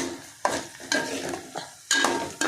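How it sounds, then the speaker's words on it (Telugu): Onions fry in a pan over a medium flame for a tomato curry, with a continuous sizzle broken by four sharp scraping stirs of a spatula, close and fairly loud. "ఇదిగోండి మంట మీడియంలో ఉంది కనుక ఉల్లిపాయలు మాడవండి"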